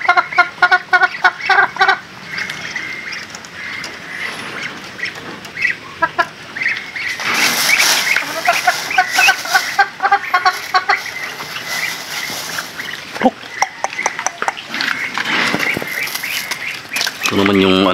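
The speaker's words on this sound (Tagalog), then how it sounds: "Ito naman yung alaga kong manok." Chickens cluck and squawk close by in bursts, with other farm birds, including ducks, calling and a person talking in between.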